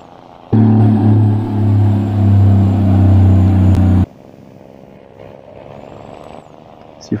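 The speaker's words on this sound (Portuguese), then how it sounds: "Caminhão com chassi grande é ruim, vai fazer curva." Loaded large-chassis Ford truck driving and turning on a road near Palmas, Tocantins, with a loud steady engine drone that holds for several seconds then cuts off abruptly, leaving quieter cab noise.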